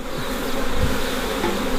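Dense buzzing of many honey bees during a hive inspection fills the clip, a continuous close drone with wings whirring around.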